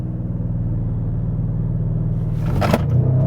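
An Audi RS6 engine idles with a low rumble in sport mode, then revs up sharply toward the end as it launches hard, loud and close.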